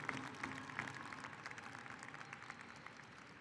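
Audience applause for graduates' parents at the 2022 Seguin High School graduation ceremony, a steady, fairly faint wash of many hands clapping throughout, heard from a distance in a large crowd.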